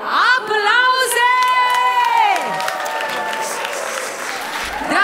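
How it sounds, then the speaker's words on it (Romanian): Wedding guests clap and cheer at a reception as the first dance begins, with whoops and a rising wail near the start over sustained crowd applause. "iar noi începem momentul, spectaculos care le aparține mirilor, printr-o doză de aplauze!"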